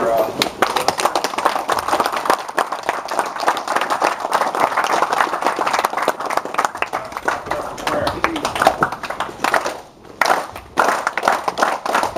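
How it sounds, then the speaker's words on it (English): An audience at a clinic event claps, a sustained crackle of many hands carrying on under speech, then briefly dropping off near the end before resuming. "First, let's clap it up for"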